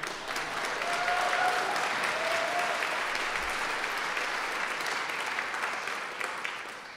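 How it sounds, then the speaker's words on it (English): Sustained applause from a crowd at an arts awards ceremony, steady and dense for several seconds before tapering slightly at the end. "May we have one more round of applause for our mayor."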